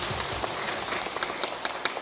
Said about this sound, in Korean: 우리 집사님께 다시 한번 큰 박수 부탁드립니다.